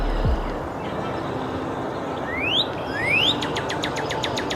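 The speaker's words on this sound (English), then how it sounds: "here we have the state bird of Illinois, the cardinal" A northern cardinal sings at Montrose Harbor's North Pond: two clear rising slurred whistles, then a quick run of sharp repeated notes, moderately near over a muffled city background.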